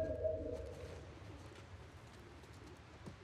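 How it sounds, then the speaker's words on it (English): Pigeons coo in The Last of Us Part 2, a low soft warbling burst at the start that fades into quiet game ambience. "Oh, the freaking pigeons again."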